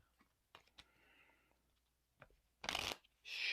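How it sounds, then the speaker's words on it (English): Arkham Horror LCG encounter deck cards being shuffled, close and quiet: a few soft clicks and taps, then two loud riffling bursts of cards near the end, with faint whispery voice. "Shuffle."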